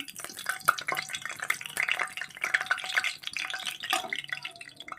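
Papads frying in hot oil in a home kitchen give off a close, busy crackle of quick sputtering pops that rise and fall in uneven bursts, with no voices.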